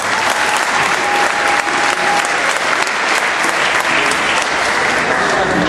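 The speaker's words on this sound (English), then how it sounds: "He's not here, but he deserves a round of applause." Sustained applause fills a sports banquet hall for a soccer player honored in absentia, dense steady clapping at close range throughout with a faint crowd murmur beneath.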